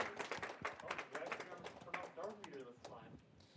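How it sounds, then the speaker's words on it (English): Audience clapping for sponsors at a student security club meeting, steady scattered claps over about three seconds with voices and cheering mixed in, fading toward the end. "And clap it up for our sponsors again."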